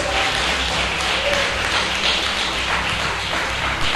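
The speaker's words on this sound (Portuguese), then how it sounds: "Aplaude o Rei Jesus." A church congregation applauds in a steady, dense wash of clapping that holds at the same loudness from start to finish, with no voice rising above it.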